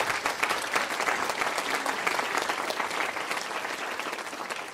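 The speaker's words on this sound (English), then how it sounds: "Give her an applaud." An audience applauds an essay award winner at a Constitution Week awards ceremony, producing dense, steady clapping that holds for about five seconds and eases slightly toward the end.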